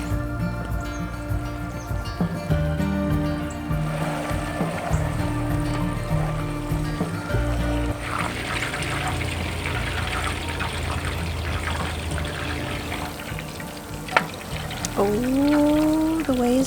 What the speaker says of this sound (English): Oh, the whey is bubbling away.